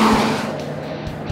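2004 Duraburb Suburban with over 1,000 horsepower at the tires driving, a loud close engine roar that eases slightly over a brief stretch, with no voices.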